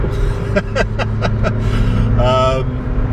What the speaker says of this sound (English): We'll check out this GTR here. Sounds pretty good.